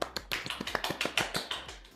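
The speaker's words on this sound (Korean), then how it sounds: "박수 부탁드립니다" Sparse hand clapping from a small group welcoming an SAP Cloud ERP webinar presenter, a series of sharp separate claps over about two seconds, fairly close and moderately loud.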